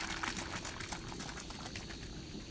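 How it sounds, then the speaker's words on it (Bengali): Medicine and one litre of water are shaken inside a plastic spray gun, giving a faint, continuous sloshing and rattling of liquid. "এখন এটাকে আমরা জাকাবো ভালোভাবে ওষুধটা মিশার জন্য।"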